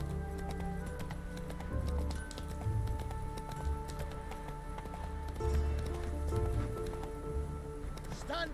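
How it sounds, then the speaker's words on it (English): A horse galloping in the video game The Witcher 3, a continuous rapid drumming of hooves close by, mixed with game ambience and music and a little speech. "That's it, Roach"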